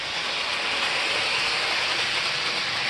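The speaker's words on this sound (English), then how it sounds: "So now the side train will run around the track 3 times." A model train running around its track on a layout, giving a steady, close rolling whir and hiss that holds evenly with no voices over it.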